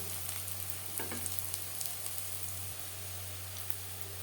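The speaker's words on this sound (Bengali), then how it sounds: "বড়া ভাজা হয়ে গেছে সুন্দর একটা কালার চলে এসছে তেল ঝরিয়ে উঠে নেব" Mustard flower fritters frying in hot oil, a soft, steady crackling sizzle with faint bubbling pops over a low electrical hum.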